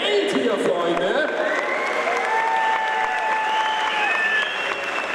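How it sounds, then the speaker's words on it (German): A crowd on stage at a live event applauds and cheers, a steady wash of clapping with shouts and whistle-like tones rising over it, loud and continuous throughout. "Nochmal einen großen Applaus für das komplette Feld hier, Freunde."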